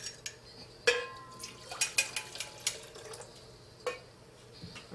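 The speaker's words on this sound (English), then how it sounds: "we're going to mix it up a little bit just to get the soil particles suspended" A soil sample being stirred into water in a cup, heard as a few sharp, scattered clinks and scrapes against the container with faint liquid swishing between them, close and fairly quiet.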